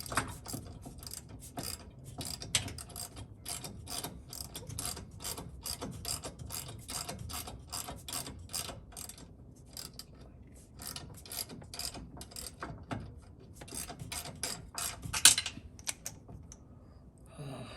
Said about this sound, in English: As long as I'm able to open the vice grip back up.